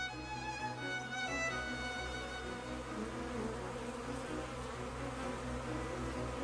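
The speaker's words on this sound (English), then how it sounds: "While the bee is gathering nectar, pollen collects on the small hairs of its body." A bee buzzes steadily while gathering nectar from flowers, a continuous moderate drone with harmonic tones that holds for several seconds, alone with no talk.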